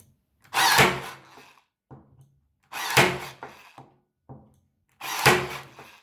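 An Einhell TC-CT 3.6 Li cordless stapler fires three separate staples into softer wood. Each is a sharp, close mechanical snap with a short thunk, spaced about two seconds apart. Quieter clicks follow between shots.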